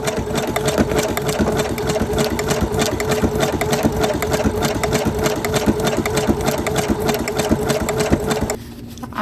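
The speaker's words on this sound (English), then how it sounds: "we're gonna just sew to the end of the bucket" Sewing machine stitching flip-up side-loading pockets, a steady loud mechanical whir running nonstop at close range, then stopping abruptly near the end.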